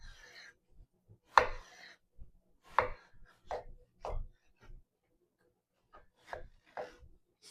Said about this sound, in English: now you want to make julienne cuts with the zucchini